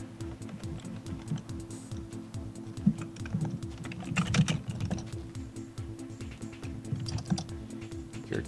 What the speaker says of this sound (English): Your keyboard noises are very loud.